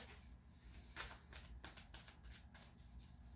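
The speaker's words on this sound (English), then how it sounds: "I'm going to keep shuffling and get us a second card." Tarot cards being shuffled by hand close up, a quiet run of crisp riffling flutters and soft slaps repeating at an uneven rhythm.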